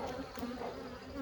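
Honeybees buzz steadily at the entrance of a Layens hive, a close, continuous insect drone with no talking.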